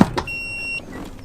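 An electric seat motor whirs steadily for about half a second while a Nissan Silvia's seat adjusts inside the car, after a brief click, then stops and leaves quiet cabin noise.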